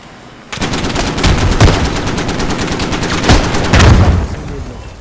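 Loud machine gun fire from an enemy Humvee in the video game Squad, bursts of rapid close shots with heavier booming reports, starting abruptly after a quiet moment.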